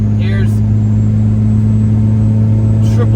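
A 2017 Cummins 6.7 diesel swapped into a second-generation truck rumbles through a 5-inch exhaust with a high-mount manifold, making a loud, steady low drone during the drive, with faint brief noises above it.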